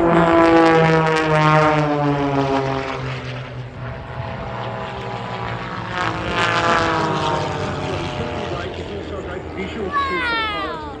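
An aircraft flies a knife-edge pass at the Australian International Airshow 2023, its engine droning steadily with a shifting, Doppler-like pitch. An announcer talks over it throughout.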